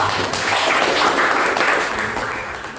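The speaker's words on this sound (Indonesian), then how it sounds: "Tepuk tangan dong" A classroom group claps together during a teaching performance exam, a dense, loud burst of applause held for a few seconds and easing off at the end.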